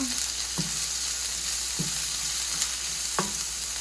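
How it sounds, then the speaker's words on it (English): Jerk salmon fries in hot oil with a steady, loud sizzle throughout, and a few short scraping knocks from stirring or turning break through at intervals. "we're going to kind of let that cook up in that oil and kind of char and burn, just let it cook"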